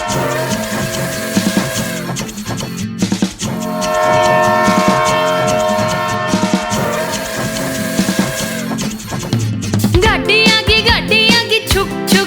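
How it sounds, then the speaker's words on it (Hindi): Cartoon train in a Haryanvi children's rhyme, whistling with loud, tonal horn blasts and rhythmic chugging over a bouncy musical backing. "गाड़ी आगी छुक छुक छुक सीटी देखो क्यों कर बाजे कुक कुक कुक"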